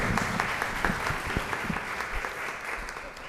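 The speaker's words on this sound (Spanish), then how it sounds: "Perfecto, un aplauso para él." An audience at a formal lecture event applauds a speaker as he takes the floor, a dense, steady wash of clapping from many hands that carries on without pause, fairly loud and close.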